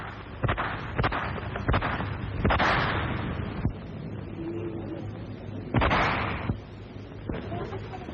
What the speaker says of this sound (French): Et soudain, claque le premier coup de feu.